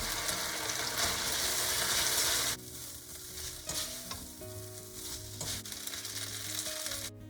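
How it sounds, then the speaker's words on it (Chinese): Noodles stir-fried and tossed in a pan, with a loud, steady sizzle that drops partway through as the noodles are mixed in, and scraping stir sounds continuing alone. "倒入面条，搅拌均匀即可。"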